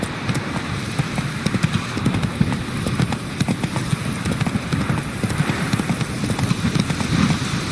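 Rapid, steady hoofbeats of a horse galloping in The Witcher 3 video game, continuous and fairly loud across the whole stretch, with a faint game ambience underneath.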